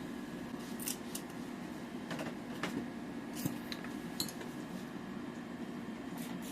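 Small plastic parts and metal screws of a Tamiya B-MAX Beat Magnum mini 4WD kit clicking and clinking during assembly, a string of light, scattered ticks and taps close by with no talk.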